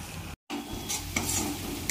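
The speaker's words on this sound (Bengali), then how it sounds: "একটু নেড়ে নিচ্ছি।" Egg curry masala with tomato sauce being stirred in a pan, a steady scraping and sizzling texture interrupted by a brief gap, with a few sharper scrapes standing out close up.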